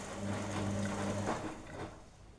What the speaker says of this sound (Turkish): az çamaşır olduğunda şey oluyor böyle yerim, makine biraz sallanıyor